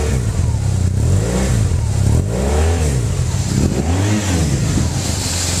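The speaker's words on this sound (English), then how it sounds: "I wanted to give you a bit of a engine sound." A BMW R1200R motorcycle engine revving, deep throaty rises and falls repeated in several pulses over a constant low idle rumble, close and loud.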